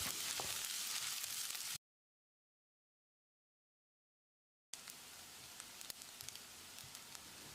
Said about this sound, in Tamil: வெங்காயம் லேசாக செவந்து வர்ற அளவுக்கு வதக்கிடலாம்.